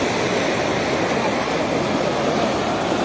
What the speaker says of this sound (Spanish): el río está viniendo con demasiada fuerza.